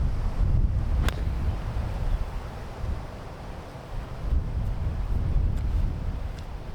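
Steady low wind rumble buffets the microphone on an open golf course at Marcus Pointe Golf Club, continuous and loud with slight gusting swells, no talking.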